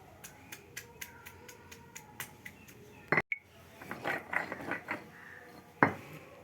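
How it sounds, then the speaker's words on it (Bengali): Tomatoes and garlic are ground together into a paste for a pumpkin flower dish. A series of light rhythmic taps gives way to rough, close scraping and grinding strokes, with a sharp knock partway through. "এই টমেটো আর এই রসুন কটা একসঙ্গেই বেটে নেব।"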